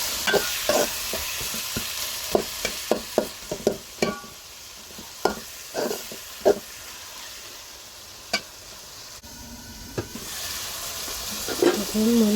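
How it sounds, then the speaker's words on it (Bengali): Prawn bhuna for a Bangladeshi dish sizzles in a pan while a spatula scrapes and taps against it in a run of sharp, irregular strokes over a soft, continuous frying hiss, close and fairly loud. "নেড়ে দিব একটু"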